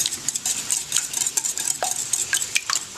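A whisk beats half-and-half milk into eggs with canned salmon in a bowl, a close, steady run of quick metallic clinks and scrapes for several seconds, with no voices.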